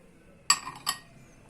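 A spoon clinks twice against a bowl while chickpeas, onion and tomato are mixed together, two short bright taps close together that are otherwise surrounded by quiet.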